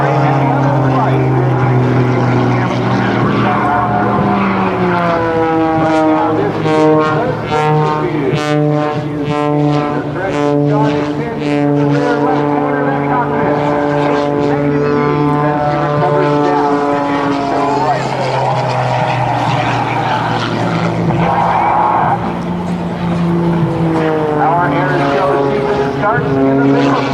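An aerobatic propeller plane flown by Sean and Eric Tucker drones loudly through a diving snap roll at an airshow, engine pitch rising and falling continuously while an announcer talks throughout.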